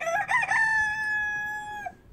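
A rooster crows once, a long, loud, clear call inside a chicken coop, opening with a few quick clucks from the hens before the drawn-out crow fades away.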